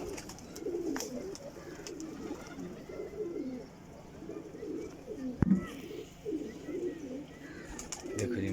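Sialkoti black-faced pigeons give soft, repeated rolling coos close by, continuous throughout with a sharp knock midway.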